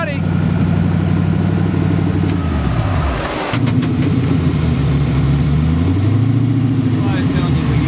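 The 1800 HP Nelson Racing Engines sand rail engine at Pismo Beach rumbles and revs loudly and close, with a throaty pitch that dips and rises again as the throttle is blipped between steady high-idle stretches.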